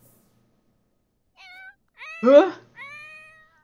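A cat in The Sims 4 video game gives three short meows: a faint first call, a louder middle one and a softer trailing one. A brief spoken interjection comes during the meows.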